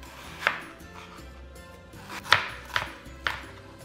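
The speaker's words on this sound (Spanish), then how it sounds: "La cebolla la picamos finamente" A knife finely chops onion on a cutting board, with four distinct close taps at irregular intervals over a low kitchen background.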